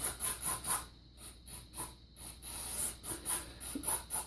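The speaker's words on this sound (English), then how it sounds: "I'm going to start spraying this out with the throttle body cleaner here" An aerosol can of throttle body cleaner sprays into an electric throttle body in quick pulsing bursts of hiss, then a longer steady spray, close by with no voices.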